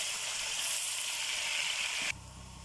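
Golden onions frying in a pan with ginger-garlic paste for a sarson ka saag recipe sizzle loudly and up close in a steady crackle for about two seconds, then the sound cuts abruptly to a quieter hum, with no talk.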